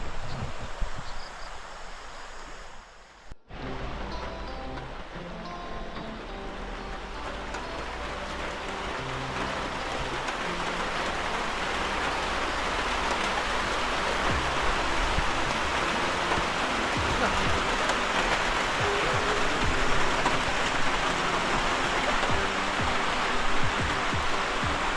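Steady heavy rain pours down outdoors over an open farm field, a dense, even hiss that starts after a brief quiet gap and holds loud and continuous throughout with no voices.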